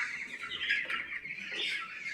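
Chickens about 26 days old on a poultry farm cluck and chatter in a steady, busy murmur of many birds, moderately loud and without talk.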